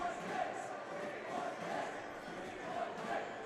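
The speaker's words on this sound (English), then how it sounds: "And some heavy chanting here in the crowd" Spectators at a youth ice hockey playoff game chant together, a distant, reverberant swell of crowd voices rising and falling in steady waves across the arena.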